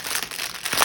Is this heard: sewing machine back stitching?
no